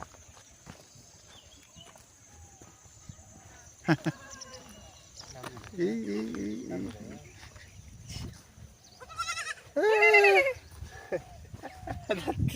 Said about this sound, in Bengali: এরকম জঙ্গল গাছের পাতা খাচ্ছে ছাগলের বাচ্চাগুলো